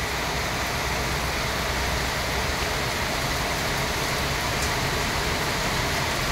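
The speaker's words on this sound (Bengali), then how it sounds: "ঝুপঝুপ বৃষ্টি হচ্ছে, তার সঙ্গে বজ্রসহ বৃষ্টি হচ্ছে," Heavy rain with a thunderstorm in Sitakunda, heard as a dense, steady roar of downpour that fills the whole stretch without pause; no distinct thunder clap stands out.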